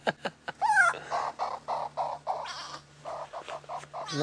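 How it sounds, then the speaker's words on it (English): A grey go-away bird in the wild on a safari drive gives a run of loud, nasal, bleating calls in quick, uneven succession, close and clear over a faint low hum. "So this grey go-away bird, you hear that sound?"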